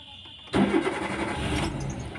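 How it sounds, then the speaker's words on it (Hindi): A Maruti Suzuki Wagon R starts with a newly cut key: after a quiet moment the engine cranks and catches abruptly, then settles into a steady, loud, close idle with no talking. "गाड़ी स्टार्ट हो गया।"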